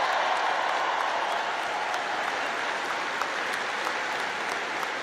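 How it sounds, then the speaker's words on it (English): A large commencement crowd at the University of Alabama claps steadily in a dense, sustained wave of applause that carries evenly through the whole stretch without fading. "let's give a big round of applause to the leaders of this state"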